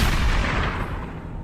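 A single rifle shot fired at a deer, rendered as a loud sound effect: a heavy booming blast that rolls into a rumbling echo and fades slowly.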